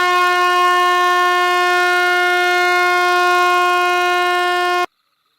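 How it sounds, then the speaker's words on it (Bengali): A cartoon train's horn blares on one loud, unbroken, steady tone for nearly five seconds, then cuts off abruptly into silence. "এমন সময় দূর থেকে একটা ট্রেন আসে।"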